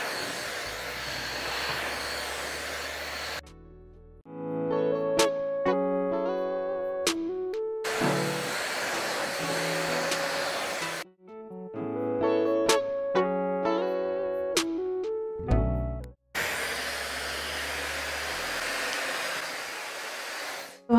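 A Llano Professional hair dryer blows in loud steady bursts while hair is styled, switching off and on several times, with background music filling the gaps and no speech.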